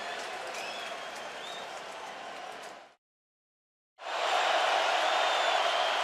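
A loud, roaring crowd fills the Seattle stadium during a 2013 NFL game between the 49ers and the Seahawks. The dense roar cuts to silence for about a second, then comes back even louder.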